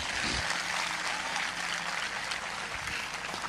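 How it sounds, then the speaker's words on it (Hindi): A church congregation applauds in praise of Jesus during a Hindi worship service, a dense, steady wash of many hands clapping at moderate distance, with no talking. "आइए उसके लिए एक अच्छी ताली बजाएंगे"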